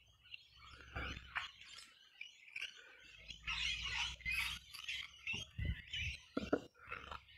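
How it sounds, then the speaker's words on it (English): Several small birds chirp and twitter in quick, scattered bursts, fairly close, with a faint low hum underneath. "Beautiful birds, that's why I'm being quiet, so you can hear the birds."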